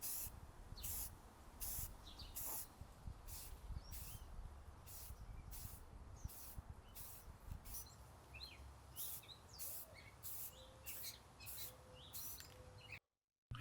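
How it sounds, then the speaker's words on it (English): Short hissing bursts of an aerosol spray paint can coating a ceiling medallion, repeated in a steady on-off rhythm over faint background noise. "Just a quick spray paint of this ceiling medallion."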